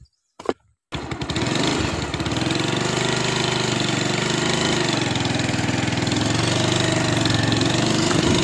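A motorbike engine starts after a couple of brief clicks and then runs steadily at a low, buzzing idle for riding practice, loud and close throughout with no talk.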